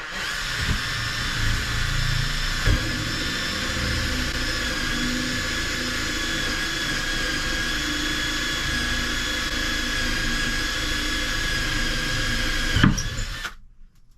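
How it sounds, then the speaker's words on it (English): A power drill bores a hole for a shower head insert, its high steady whine running continuously for about thirteen seconds at close range before cutting off abruptly with a short clatter. "I'm going to drill my hole."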